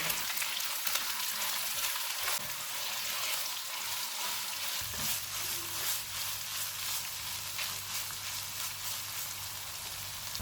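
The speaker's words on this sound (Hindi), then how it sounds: "प्याज फ्राई हो गए हैं, इनमें मैरिनेटेड कीमा डालेंगे। चूल्हे को मीडियम टू हाई रखेंगे और इसको 5 मिनट तक भूनेंगे" Marinated minced meat frying with onions in a pan over a medium-high flame gives a steady, loud sizzle throughout, with a deeper hiss added partway through, and no talking.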